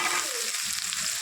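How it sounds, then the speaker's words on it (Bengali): Prawns dropped into hot oil with black cumin and mustard seeds give a steady, close sizzle and crackle of frying that runs without a break for the whole moment, with no voice over it. "এর মধ্যে দিয়ে দেবো আমি চিংড়ি মাছটা।"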